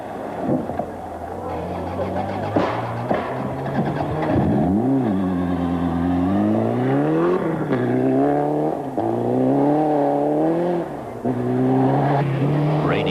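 A Conquest rally car in the 1995 Castrol International Rally churns loudly through a muddy stage, its engine rising and falling in repeated revving sweeps as it fights for traction, with a commentator talking over it.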